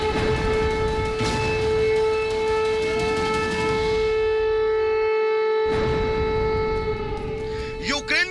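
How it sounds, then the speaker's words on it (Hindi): A loud air raid siren in a Ukrainian city during wartime wails in a long, steady tone with layered pitches, continuing without pause until a short rising whistle near the end. "यूक्रेन के शहरों में एयररेड का सायरन अब कोई डरावना सपना नहीं बल्कि सच्चाई बन चुका है"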